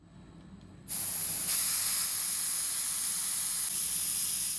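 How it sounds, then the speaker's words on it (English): A steady, close hiss of colored chocolate spray onto Easter egg molds starts abruptly after a moment of quiet and continues evenly to the end. "I spray both molds totally the same way."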